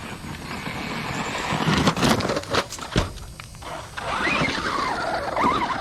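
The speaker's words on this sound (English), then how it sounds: "Pretty hard braking there." An RC car fitted with a 3D-printed nylon gear brakes hard, giving a loud, close mechanical whir and gear chatter with sharp rattling bursts mid-way, then a rising motor whine as it speeds up again.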